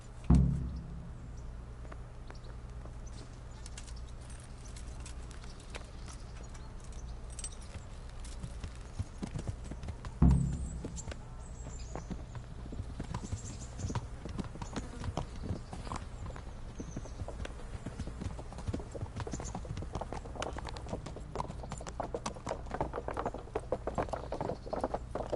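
Horse hooves clip-clop in a steady rhythm while riding in the video game Kingdom Come: Deliverance, continuous and moderately close under faint ambient noise, with a couple of louder knocks.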